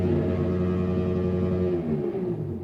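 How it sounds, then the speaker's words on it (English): A nearby lawnmower engine drones steadily with a buzzing, harmonic-rich hum that wavers slightly in pitch, moderately loud and continuous with no talking over it. "That's a lawnmower?"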